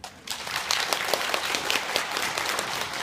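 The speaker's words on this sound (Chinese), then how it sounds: "大家再次鼓励，给他们掌声鼓励。" Audience applause after a Christmas party play at a Chinese Catholic community church in San Diego: steady, dense clapping from a full room that swells in quickly and holds for the whole span.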